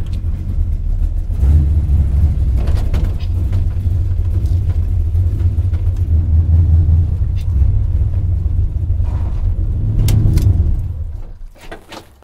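A car engine that is running rich idles with a loud, steady low rumble close by, rising slightly near the end before fading out.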